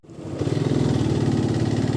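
Motorcycle engine running steadily while riding along a hilltop road in Nepal, a loud, close, continuous throb that builds in the first moment and then holds even without any talk.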